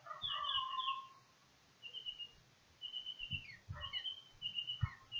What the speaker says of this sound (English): Sounds a bit like my king parrot visitor